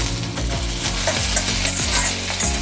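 Onions frying until reddish in a pan for matar paneer masala, a loud close sizzle with rhythmic scraping strokes from stirring throughout.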